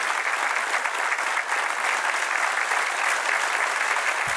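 A dense audience applauds steadily for a performer at a cultural event, with a continuous, even roar of clapping that never breaks.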